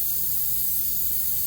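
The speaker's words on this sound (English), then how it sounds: "So I'm going to spray this one." Cooking spray hissing onto a baking pan lined with wax paper, one short steady spray burst, loud and close with no pauses.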